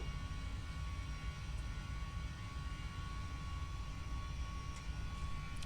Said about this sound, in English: as you can see the plane is now taking off